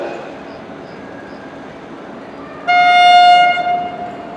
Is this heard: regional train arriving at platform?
yes